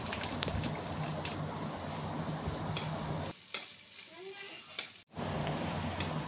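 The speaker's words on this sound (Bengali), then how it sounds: "এবার আমরা এর মধ্যে দিয়ে দেব কুচিয়ে রাখা লঙ্কা আর দিয়ে দেব কুচিয়ে রাখা পেঁয়াজটাও। দিয়ে আমরা সব কটাকে একটু ভালো মতো ভেজে নেব।" Chopped green chillies and onion are stirred into hot oil for an egg devil recipe, a loud, steady sizzle that briefly drops away before returning.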